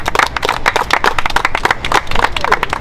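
A room full of people clap together in dense, lively applause, loud and close, with a voice briefly audible beneath the clapping.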